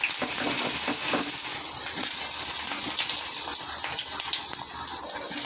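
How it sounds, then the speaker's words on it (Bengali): Eggplant frying in hot oil gives a steady, even sizzle and crackle that holds at a constant moderate level from start to finish, with no voices. "তেল গরম হয়ে গেছে, বেগুনটাকে একটু ভেজে তুলে নেবো"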